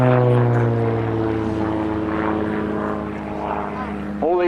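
Propeller plane performing aerobatics at the Woodchurch air show in 2005, its steady droning engine loud and sustained throughout, rising briefly near the end, with a commentator talking over it.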